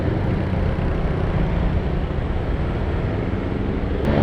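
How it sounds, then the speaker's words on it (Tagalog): Dense, steady rumble of heavy city traffic on a wet road just after rain, heard from a Honda Click 150i scooter riding in a motorcycle lane along Tandang Sora; a continuous loud roar of engines and tires with no talking. "Grabe, ang daming sasakyan."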